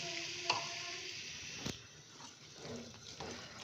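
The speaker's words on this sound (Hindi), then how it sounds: "और फिर हम इसको अच्छे तरीके से भूनेंगे" Kachori filling sizzling in a pan as chicken stock is added and stirred in, a soft steady frying hiss with a few wet squishes and faint stirring scrapes, fairly quiet and close with no talking.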